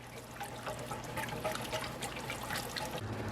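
Liquid thickening as it comes to a boil in a pot on the stove makes faint, continuous bubbling and soft gurgles over a low hum, with no voices.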